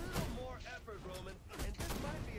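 Rapid bursts of gunfire in the Batman Arkham Knight video game, several clustered volleys of sharp shots in quick succession, fairly faint and mixed with game effects.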